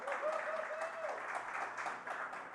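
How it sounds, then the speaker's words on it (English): Faint, somewhat distant audience applause at a live talk show recorded at a pickleball venue, with voices cheering and talking under the clapping. "Good round of applause."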